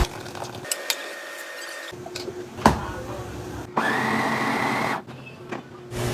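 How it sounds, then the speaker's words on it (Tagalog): A blender or food processor blends cooked rice for puto bigas batter, running in loud whirring bursts with short pauses between pulses, heard alone with no talk. "Gagamit lang din ako dito ng blender or food processor."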